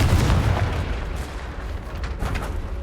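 A Confringo blasting curse detonates in the Hogwarts Legacy video game: a loud, deep boom with a rumbling tail, followed by a second burst near the end.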